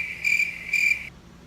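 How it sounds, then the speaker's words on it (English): Crickets chirping in two bursts of rapid, high trilling, close and clear, cut off abruptly into near silence. "All you hear is crickets."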